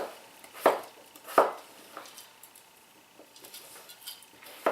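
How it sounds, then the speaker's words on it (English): Vegetables chopped on a board for a vegetarian soup: a few sharp, separate knife strikes, two of them loud and close, then softer lighter cuts spaced out against a quiet kitchen. "once you're cutting the vegetable"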